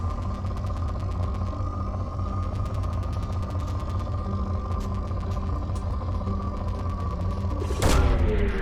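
Probe launch in Mass Effect 2, with a steady mechanical hum and rapid ratcheting clicks building to a sharp whooshing burst near the end, loud and continuous without speech.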